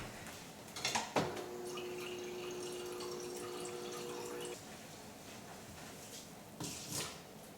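Water poured into a cup for a drink, a steady trickling stream lasting a few seconds between brief clinks and handling knocks, quiet and close, with no talk.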